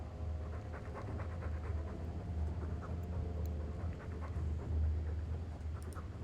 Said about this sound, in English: I'm sick of what's-his-name staring and panting.